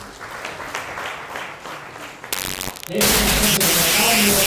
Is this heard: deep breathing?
no